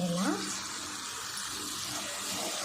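Ground tomato paste with spices sautés in oil, a steady close sizzle with a brief voice at the start.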